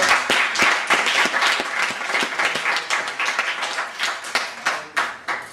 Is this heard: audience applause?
yes